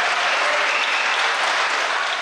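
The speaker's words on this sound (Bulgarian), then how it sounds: "Ръкопляскането бързо заглъхна" Applause fills a parliament chamber after a close vote, a dense, steady clatter of many hands that holds loud and even throughout with no voices breaking through.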